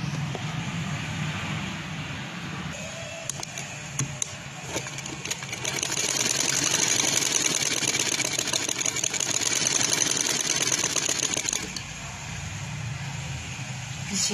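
A sewing machine joins the shoulder seams of a garment, its motor humming and needle clattering in a continuous run that swells louder in the middle and eases near the end, heard close up over faint background.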